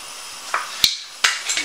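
Stuck jar of sweet smoked paprika being twisted open: a few sharp clicks and snaps of the lid, spaced apart over a quiet background.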